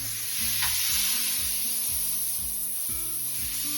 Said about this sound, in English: Burgers are on the pan.